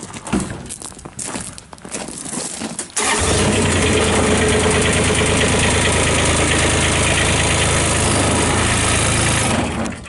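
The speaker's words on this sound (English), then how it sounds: "going to be powered by a Kubota D902 three-cylinder diesel engine. Starts and runs excellent." A 2017 Kubota RTV-X900 UTV's D902 three-cylinder diesel engine cranks and fires after about three seconds of quieter handling noise, then runs loud and steady at a close, even idle to the end.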